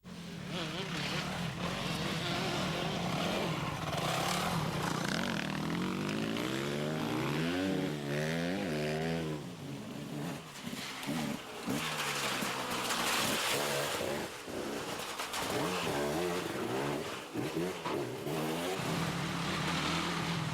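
Enduro motorcycles at the Grand Prix of Greece, a seven-hour bike competition, with engines revving and rising and falling in pitch as they pass, loud and continuous, with a commentator talking over them.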